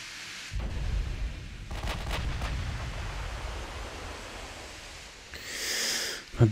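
Battleship main gun salvos in the naval game Ultimate Admiral Dreadnoughts, HMS Nelson against Richelieu: deep booming blasts with rumbling tails over a steady sea-like wash, ending in a sharper burst.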